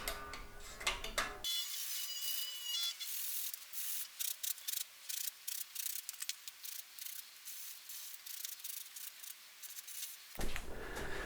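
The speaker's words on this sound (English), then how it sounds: "giving it a good clean up with some" Sandpaper rubs back and forth on a Telecaster guitar part in quick, rhythmic strokes, close and fairly faint, with short pauses between passes and a brief knock at the start and end.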